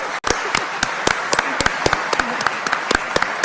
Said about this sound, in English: Let's have a round of applause for Beatrice.